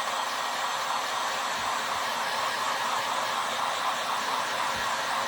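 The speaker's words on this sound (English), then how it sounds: "I'm drying these with a heat gun that I got from Harbor Freight." A Harbor Freight heat gun blows a steady, loud, unbroken hiss and whine close by, drying painted pieces, with no talk over it.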